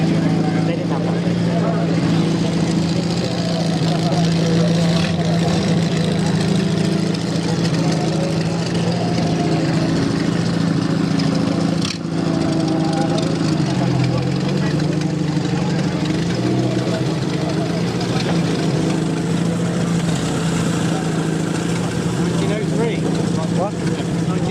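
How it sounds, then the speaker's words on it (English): A 1903 vintage car engine runs steadily close by at Brooklands, idling with a rough, uneven rumble that swells slightly as it's revved, with people talking around it. "He's revving, but he's not moving it yet."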